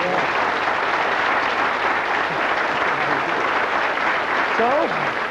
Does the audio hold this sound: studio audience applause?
yes